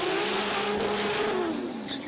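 Barra-powered Ford EL race car driven by Jason Scott running on track at the Garrett Brisbane Jamboree, a loud engine note sweeping down in pitch as it passes, with a tire squeal toward the end.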